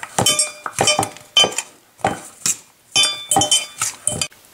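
Baking soda and other ingredients are mixed in a glass bowl, producing repeated bright clinks and scrapes of a utensil in quick irregular bursts, close and clear with no talk.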